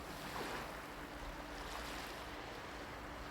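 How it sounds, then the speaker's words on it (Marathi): Gentle sea water and waves wash in a steady, soft, continuous hush with breezy noise, no voices present. "तो पाण्याचा जो हळूहळू आवाज येतोय"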